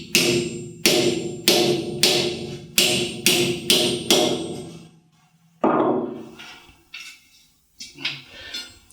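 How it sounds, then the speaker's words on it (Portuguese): Six loud metallic hammer blows in a steady rhythm as a rivet hole is punched through an iron barrel hoop in a cooper's workshop, then a pause and a few lighter, scattered knocks. "Eu vou fazer um buraco se conseguir, aqui ao lado, para meter um só rebite"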